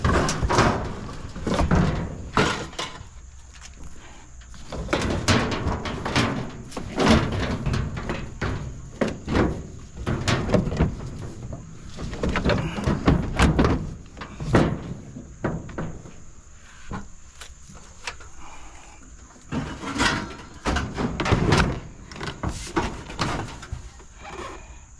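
Repeated heavy metallic thunks and clanks as a truck door is lifted and fitted back into place amid scrap-metal loading, coming in irregular bursts across the span with a steady high whine underneath.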